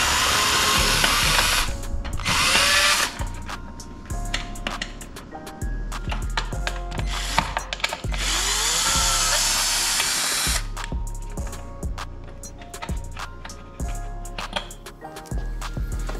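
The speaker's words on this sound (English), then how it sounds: "Loosen these screws." A power tool loosens screws on a Can-Am Maverick X3 grill, with whirring bursts, ratcheting clicks and handling clatter repeating close up over sixteen seconds.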